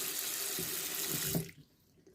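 Tap water runs into a cup in a sink, a bright steady splashing stream at close range that cuts off abruptly partway through, leaving quiet.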